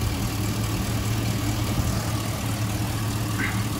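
A low, steady GMC truck engine idles throughout with a constant rumble and hum, running evenly without revving, close by.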